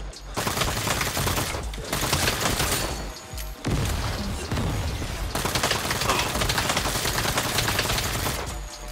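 Dense bursts of automatic gunfire from the Saints Row video game rattle loudly and almost continuously, broken by a couple of short pauses.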